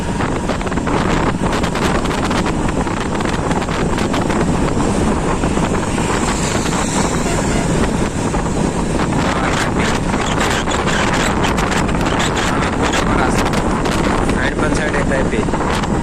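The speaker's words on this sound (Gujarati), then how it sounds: "પવન જોરદાર છે હો પણ અહીંયા." Strong, steady wind roars across the microphone throughout, with dense broadband buffeting and gusty rumble, close and loud.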